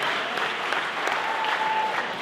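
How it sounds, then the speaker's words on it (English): An audience applauds at a wedding speech, a dense, steady clapping that fills the space evenly at moderate volume from start to finish. "So can I give a little round of applause for Patty?"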